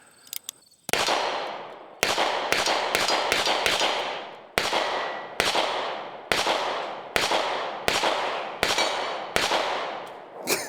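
A Smith & Wesson 586-L Performance Center revolver fires about a dozen sharp, loud shots in quick bursts and single spaced reports, each with a short ringing decay, close by outdoors.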